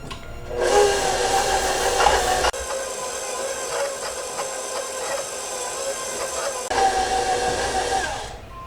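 An electric mixer creams butter and sugar for ginger cookies, giving a loud, steady whirring drone that shifts in pitch and intensity a couple of times and runs continuously without any talk.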